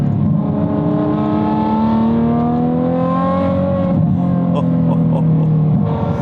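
A new Ferrari Testarossa's engine revs loudly and steadily while driving, its tone climbing and easing as the pitch shifts, close and continuous throughout.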